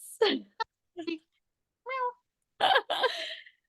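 A cat meowing in short, separate bursts, several brief mews and cries spaced apart with silent gaps between them, close by and fairly clear.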